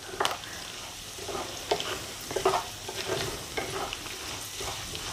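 Garlic fries in oil over medium heat while it is stirred for Nagpur-style poha chivda, giving a steady close sizzle with repeated brighter scraping bursts as the pan is stirred.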